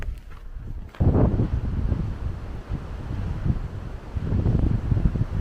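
Fierce wind buffets the microphone on a mountain trail of the Pacific Crest Trail, a loud continuous roaring rumble with gusts surging after the first second, and no talking.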